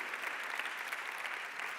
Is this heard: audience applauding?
yes